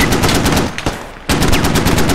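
Dense, loud machine-gun and rifle fire from a Squad firefight, with heavy bursts rattling continuously, a brief lull, then sustained automatic fire resuming at full intensity.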